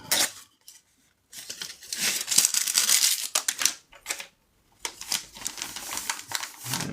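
Packing tape is pulled and pressed onto a folded package for a Pokémon card order, with bursts of crackling, ripping tape and crinkling packaging separated by short pauses, close and fairly loud.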